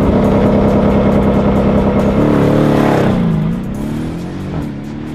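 A Mercedes-AMG M157 twin-turbo V8 engine and exhaust rev loudly and steadily at close range, then the pitch falls and the sound settles into a lower, quieter rumble with a slight rise near the end.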